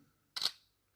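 A Realme 5S phone's rear camera gives one short, close shutter click with a bright snap that fades quickly, heard alone in a quiet room.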